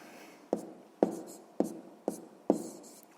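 Chalk or pen writing on a board while working a sixth-grade math exercise: five short, distinct strokes land at a steady rhythm about half a second apart, close and clear, with no talking.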